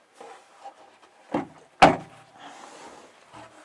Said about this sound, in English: there's another folding door on this other side